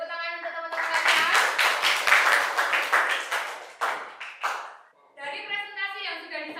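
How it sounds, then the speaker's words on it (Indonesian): Classroom applause for classmates after group presentations at SMAN 1 Turen, a burst of many hands clapping briskly for several seconds, then tapering off, with a voice speaking before and after. "Boleh tepuk tangan untuk teman-teman sekalian."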